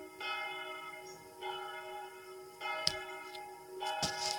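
A church bell at Notre-Dame-des-Sables tolls slowly for a funeral, several evenly spaced ringing strikes with long humming decays, heard clearly from nearby with faint ticking clicks between strikes.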